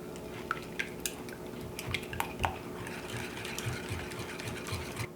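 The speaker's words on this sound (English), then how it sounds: "just mix this around till the honey and the maple syrup are pretty well combined" Honey, maple syrup, vanilla and salt stirred together in a bowl, producing soft sticky swishing with a few light clinks of the utensil against the bowl in a kitchen.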